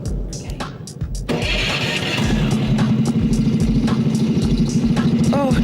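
An engine idles roughly, then roars louder and holds a steady, throbbing drone, with a brief rising whine near the end, as a car accelerates in an economy race.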